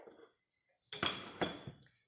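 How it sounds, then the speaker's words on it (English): Dishes, pots and cutlery being gathered up after cooking, with a short clatter followed by a longer run of clinks and knocks at close range. "And I'm going to collect the dishes."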